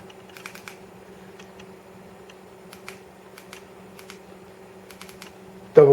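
An Olight H05 headlamp button is pressed repeatedly, giving small, crisp, close clicks in irregular clusters over a steady low electrical hum, ending in a sudden louder knock.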